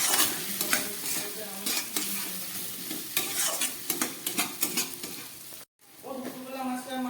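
Soaked Gobindobhog rice and spices being stir-fried over low gas in a pan, with steady sizzling, scraping spoon strokes and pan knocks close by. The sound cuts out briefly, then sizzling resumes, and no one speaks.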